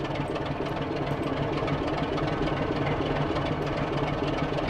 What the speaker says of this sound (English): these are the AP sounds in action, the engine sounds.